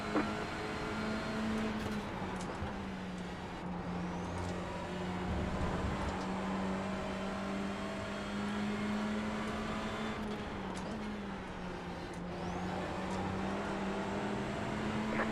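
A race car engine in the iRacing sim drones steadily throughout, a sustained tonal whine at a fairly constant pitch with slight rises and dips, loud and continuous with no talk.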